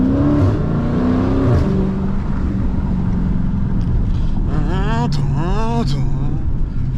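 A Dodge Challenger SRT 392 Scat Pack cruising with a deep, loud exhaust rumble, with rising rev sweeps and crackling burbles toward the end, while someone talks over it.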